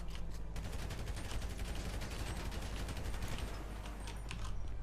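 Rapid, sustained gunfire aimed at a police car during a video game firefight, dense overlapping shots and bursts filling the whole stretch at a steady loud level with no talking.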